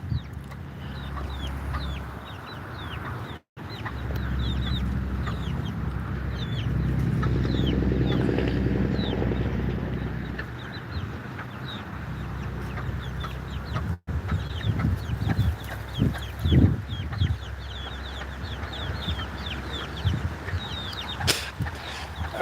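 Backyard chickens cluck and call repeatedly at close range, with a rooster among them; the steady low noise of a nearby motor runs underneath, swelling and fading midway.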